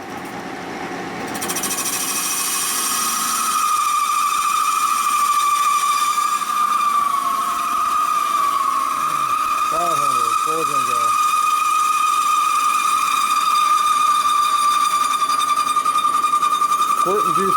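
A metal lathe bores a cast aluminum wheel hub from a Ford F350 Super Duty, giving a loud, sustained cutting whine and rattling chatter that runs on steadily while someone talks over it.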